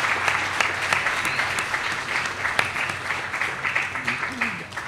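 Luncheon guests applaud Dr. Kameen Samuel, the Navy's first female African-American helicopter pilot, a steady crowd clapping with some sharp individual claps and voices murmuring underneath.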